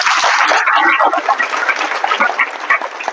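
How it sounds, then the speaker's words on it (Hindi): Audience applause and cheering for a DJ named Tarun at a motivational talk, a dense crackling wash of clapping that swells loudly at first, then thins into scattered claps over about three seconds. "तरुण के लिए एक बार जोरदार ताली हो"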